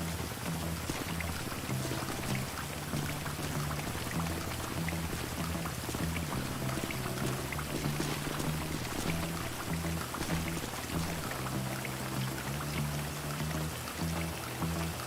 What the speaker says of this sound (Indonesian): Hujan anjir.